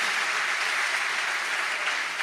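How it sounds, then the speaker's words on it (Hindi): A large audience at a devotional Bhagavat katha gathering claps loudly and continuously, a dense, even wash of applause with no pauses and no voices on top. "इस पर तो जोरदार ताली बजाओ।"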